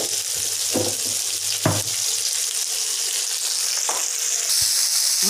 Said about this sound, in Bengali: মাছগুলো আমার ভাজা হয়ে গিয়েছে,